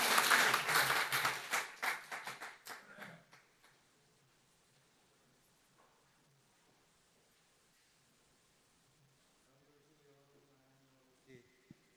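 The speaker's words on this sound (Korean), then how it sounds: "우리 하나님께 영광의 박수 올려드립니다." A congregation at a men's mission officers' prayer meeting bursts into dense applause that fades out within a few seconds, followed by near silence and then a voice beginning to speak.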